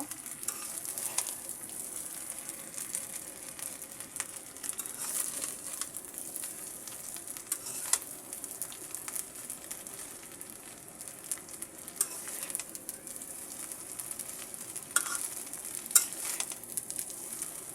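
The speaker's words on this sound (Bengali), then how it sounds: "এবারে আমি ভাতগুলো নেড়ে দেব।" Cooked rice being stir-fried for fried rice, with a steady close sizzle throughout and occasional scrapes and clinks of a utensil against the pan, no voices.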